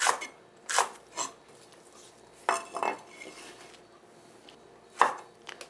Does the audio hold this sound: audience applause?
no